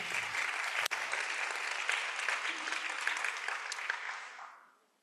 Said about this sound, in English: So round of applause to them once again.